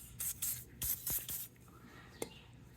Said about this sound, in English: I'm gonna hit it with some seafoam penetrant just to make it a bit easier